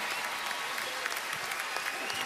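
Applause from a large arena crowd at the 2017 NCAA women's basketball Final Four championship in Dallas: dense, steady clapping sustained throughout, loud and broad, with no voices rising above it.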